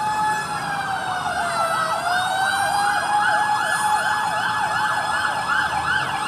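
A fire truck siren wails loudly at a large fire in Barangay Culiat, Quezon City, rising and falling in fast yelping sweeps over a steady drone, with continuous crowd and street noise beneath.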